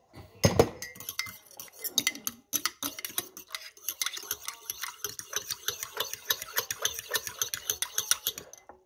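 Spoon stirring yeast and sugar in a bowl, a fast series of close, bright clinks and scrapes against the bowl, steady and rhythmic with no talking.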